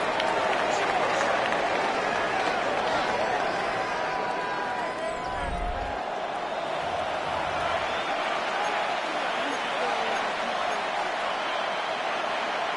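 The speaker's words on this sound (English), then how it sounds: "The crowd making their presence felt." Stadium crowd at an American football divisional playoff game between the Giants and Falcons, a dense continuous roar of cheering and noise held at steady loudness for over twelve seconds, with a brief low thump midway.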